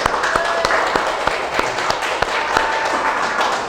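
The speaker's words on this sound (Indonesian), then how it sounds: "Oke, tepuk tangan." Classroom applause as students clap their hands together at the end of a lesson, a steady, fairly loud patter of many claps with sharper individual hand strikes standing out throughout.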